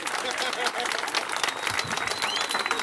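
Audience applause at the opening of a new sports field, dense steady clapping from a crowd with voices mixed in, sustained and fairly loud throughout.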